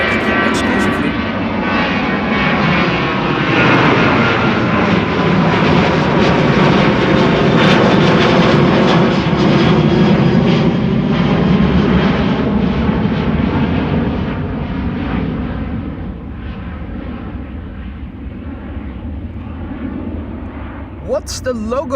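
Jet airliner taking off from the Kaagbaan runway at Amsterdam Schiphol, a sustained loud engine roar peaking midway then slowly fading into the distance, with a voice talking over it.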